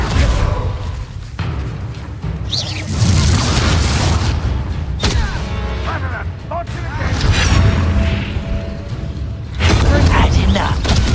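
Spell explosions in Hogwarts Legacy go off as repeated deep booms and thuds amid clattering combat effects and magical whooshes, with a voice shouting spell names over the action.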